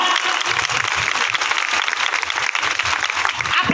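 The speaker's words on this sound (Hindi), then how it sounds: "जोर से ताली मारिबा" A congregation applauds during an Odia-language church sermon, a dense, steady wash of many hands clapping at once, loud and close, holding at an even level throughout.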